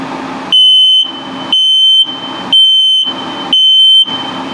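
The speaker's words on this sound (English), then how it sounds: "is your carbon monoxide LP gas detector, and it's also a low battery alarm" A carbon monoxide and LP gas detector in an RV gives a loud, shrill electronic alarm during a test. It comes as four evenly spaced beeps, each about half a second long, with a steady background hum between them.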